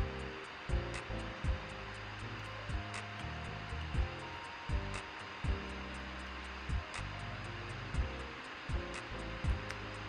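A home sewing machine stitches a dart on a hip pack, pivoting near the webbing: a steady motor whir with faint regular clicks, running close and alone without talk.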